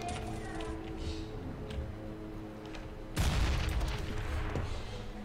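Counter-Strike: Global Offensive gunfire crackles in a burst partway through, loud and sudden over a muffled background of game sounds.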